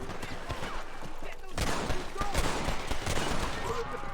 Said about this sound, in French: J'entends des coups de feu